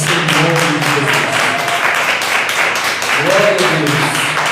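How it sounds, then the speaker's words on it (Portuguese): A church congregation claps together in praise during a worship service, with dense, sustained rhythmic clapping under a singing or speaking voice. "louvando a Deus com as palmas em nome de Jesus"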